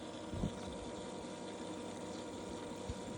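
A pool skimmer pump runs steadily beside an outdoor swimming pool at a mountain holiday house, giving a low continuous hum and faint water churn with one or two soft knocks.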